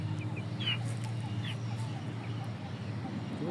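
Indio Gigante chickens clucking in short, scattered calls over a steady low hum and background voices, moderately close and continuous throughout.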